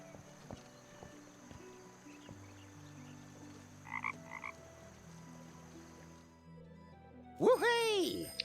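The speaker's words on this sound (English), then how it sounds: "I wonder how he can hear that frog toy." A frog toy croaks from a scene in the adventure game The Night of the Rabbit, a short, loud burst of bubbly croaks near the end, following quieter game music and a soft double chirp.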